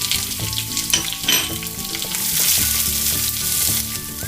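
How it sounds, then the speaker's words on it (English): Chopped garlic and onion fry in a hot pan with a continuous loud sizzle and crackle, joined by tonal clinks and scrapes from a utensil against the pan; nobody speaks. "Next I'm going to add garlic. I'm going to add onion."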